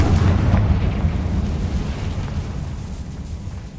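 A Confringo spell blast in Hogwarts Legacy erupts as a loud, rumbling explosion that swells at once and then slowly fades over several seconds, with no voices over it.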